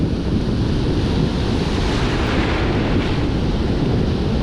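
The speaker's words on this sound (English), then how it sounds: "the wind is brutal" Strong wind buffets the microphone at a shoreline fishing spot at high tide, a loud, constant roar mixed with surf and no talking.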